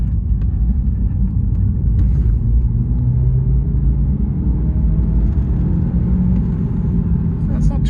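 A BMW 1 Series car's engine rumbles steadily and loudly throughout, a low continuous drone from inside the car as it is pushed harder, with occasional faint voice sounds mixed in.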